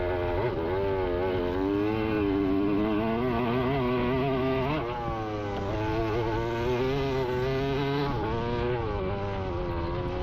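A KTM motocross bike racing at a White Rose Motocross event drones loud and close, its engine pitch rising and falling through throttle changes and gear shifts, continuous without pause.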